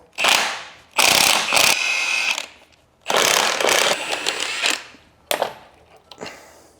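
A ratchet wrench unbolts the differential of a V12 BMW 850i that sat for years in a garden, in loud, close bursts of rapid clicking separated by brief pauses.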